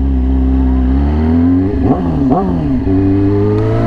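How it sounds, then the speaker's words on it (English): A Yamaha R6 motorcycle with an insanely loud aftermarket exhaust idles with a deep, steady rumble, then gets two quick blips of the throttle that rise and fall sharply before settling back to idle, close up. "Give him a little rev. That literally sounds like anti-lag right there."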